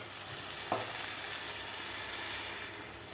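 Water poured into a hot kadai while cooking egg biryani sets off a loud, steady sizzle and hiss, with a brief splash near the start and no one speaking.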